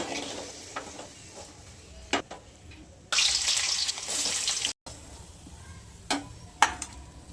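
Potato pieces fry in hot oil in a home kitchen, giving a burst of bright sizzling in the middle, with scattered utensil clinks and a quieter background before and after.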